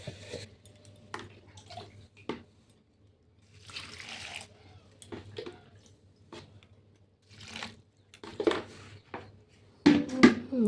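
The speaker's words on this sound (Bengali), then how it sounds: "ধুয়ে নিতে হবে। ধুয়ে জলটা ফেলে দিলে ভালো হয়" Flattened rice (poha) gets washed in water, with intermittent splashes, sloshing and pouring bursts separated by quiet gaps, the loudest splashing coming at the end, close by and without speech.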